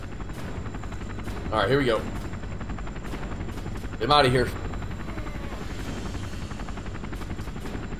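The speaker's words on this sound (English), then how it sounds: "We can get to the chopper!" A helicopter in the video game Resistance Retribution throbs with a steady rotor drone throughout, while voices speak twice over it.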